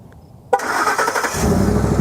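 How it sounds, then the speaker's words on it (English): A Ford truck engine cranks and catches via a factory-sourced aftermarket remote start after a moment of silence, then settles into a loud, steady idle close by, rising slightly as it runs. "You got an aftermarket, but from Ford, remote start, and it works, sort of."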